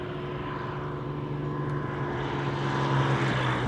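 A Hawker Hurricane propeller fighter comes in to land at about 160 km/h, its engine droning loud and steady with a low propeller hum and a slight rise in level toward the end.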